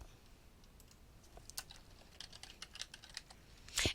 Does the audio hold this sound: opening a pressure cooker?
no